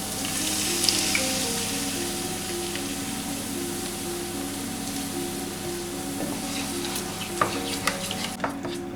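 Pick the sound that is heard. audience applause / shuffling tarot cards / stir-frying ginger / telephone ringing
stir-frying ginger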